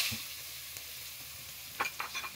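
Onions being browned in oil left over from frying pangas fish hiss softly for a while, then a few quick scraping stirs clatter near the end, all fairly quiet.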